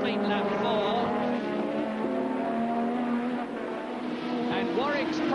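Formula One Williams Honda race cars, with their turbo-era engines, race past at a circuit, giving a continuous high engine whine with rising and falling pitch sweeps as cars pass, beneath steady commentator speech.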